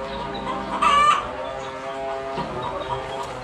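Layer hens on an egg farm cluck and squawk in a busy chorus at close range, with one louder call near the start over steady flock chatter and a low background hum.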